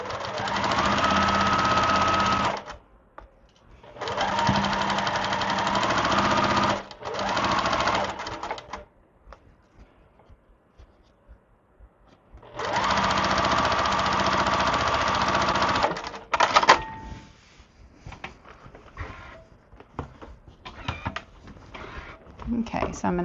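A sewing machine joins quilt rows for a peach-toned sampler quilt, running in three long loud bursts of fast rhythmic stitching with pauses between, close up and steady, while a voice talks at points.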